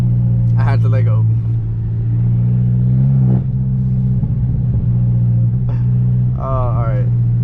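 A BMW F10 M5 engine idles and revs low under a launch control attempt, giving a heavy close rumble with brief rising revs, while someone talks over it.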